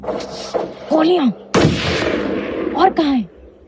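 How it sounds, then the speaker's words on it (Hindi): Gunfire in a tense scene: a single loud, sharp blast cuts in midway, surrounded by raised voices and cries. "गोलियां"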